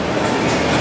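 A full-size passenger train at a Los Angeles station platform on the San Bernardino line, its steady loud rumble and rolling noise filling the moment up close with no talk.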